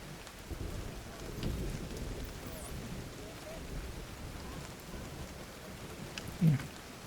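Steady hiss of rain from a rain gun in a video game, with low rolling thunder rumbling underneath for the whole stretch and a brief low thump near the end.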